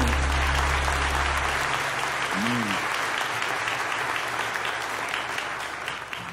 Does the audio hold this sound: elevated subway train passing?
no